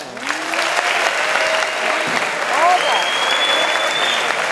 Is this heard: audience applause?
yes